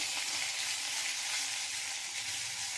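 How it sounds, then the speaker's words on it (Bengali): Potato pieces and ginger frying in hot oil give a loud, dense, continuous sizzle that holds steady throughout with no voices. "আলুগুলো লাল লাল করে আমি ভেজে নেব"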